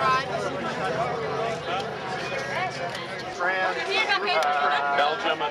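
A dense crowd shouts and chatters outside the Michael Jackson trial in January 2005, a loud, continuous babble of many voices drowning out victims' rights protesters.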